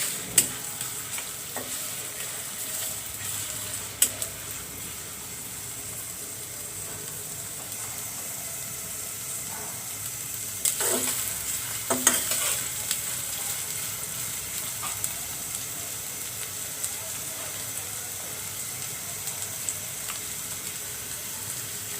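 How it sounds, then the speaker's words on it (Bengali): Onion frying in mustard oil, a low steady sizzle and hiss with gentle stirring, plus a couple of louder scraping clatters partway through. "আমি একটু হালকা লাল করে নেব, বেশি পেঁয়াজ ভাজবো না।"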